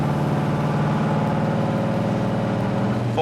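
A 1963 Dodge 330 with a Max Wedge V8 engine drives along with a loud, steady, deep exhaust rumble, continuous and close throughout.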